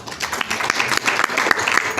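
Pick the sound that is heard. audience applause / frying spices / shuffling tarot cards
audience applause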